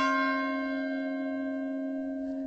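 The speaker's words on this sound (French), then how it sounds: "Ah, là, c'est les cloches." A church bell rings with a long, sustained resonant tone that slowly decays, steady and fairly loud with no voices.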